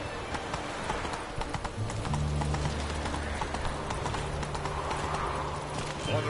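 Roach, a horse in The Witcher 3, runs with rhythmic clip-clopping hooves, loud and continuous over low game music and ambient background.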